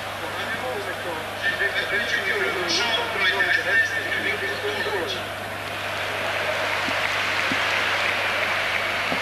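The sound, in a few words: stadium crowd applause at football match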